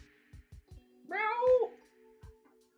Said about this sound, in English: Do I hear a needy cat?